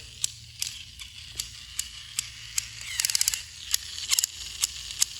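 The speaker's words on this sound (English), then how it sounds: "You hear that noise? Broken gear on the inside." Battery-powered toy engine with a broken internal gear running, giving irregular sharp clicks and a rapid ratcheting burst midway over a low motor hum.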